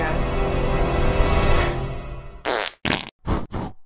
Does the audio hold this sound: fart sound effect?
yes